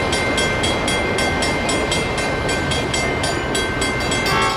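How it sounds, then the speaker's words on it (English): Train 710 pulls out of Stockton behind an SDP-40F diesel locomotive, a loud steady roar with a rapid regular clickety-clack of wheels over rail joints. "Train 710 departs Stockton with an SDP-40F for power."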